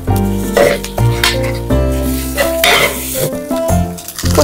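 Instant noodles frying with their packet sauce in a pan, a steady sizzle under clinks and scrapes of a utensil stirring against the pan, over background music.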